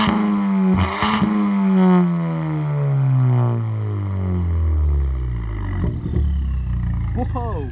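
A loud modified Ford Fiesta ST exhaust with Mountune parts roars and revs continuously, the engine note sweeping down in pitch and echoing heavily inside a tunnel.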